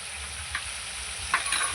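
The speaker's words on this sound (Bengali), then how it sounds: "এবার ভালো করে সব মশলা একসঙ্গে কষিয়ে নেব" Chili powder, turmeric and salt frying in a pan for a spicy dish, a steady low sizzle with a couple of soft scrapes as the spices are stirred.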